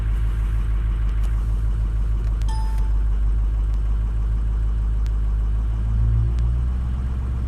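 Cold car engine idling with one cylinder running low, a steady loud rumble close by with an uneven, slightly lumpy rhythm and a brief swell near the end; no voices.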